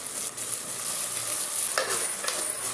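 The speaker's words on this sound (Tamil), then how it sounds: "சிக்கன் கொஞ்சம் நல்லா மிக்ஸ் பண்ணி விட்டுக்கலாம்" Half a kilo of chicken is stirred into a sizzling tomato-onion masala in a pan, with a soft continuous fry and a couple of brief scraping stirs.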